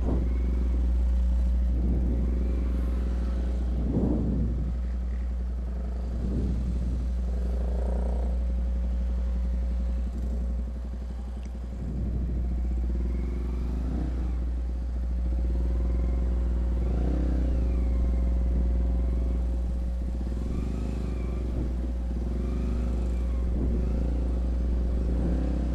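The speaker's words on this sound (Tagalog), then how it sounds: "sobrang traffic." Heavy night traffic in a city business district surrounds a Yamaha R15 motorcycle ride, with a continuous low engine rumble, passing vehicles swelling and fading, and occasional revs and clatter throughout, no speech.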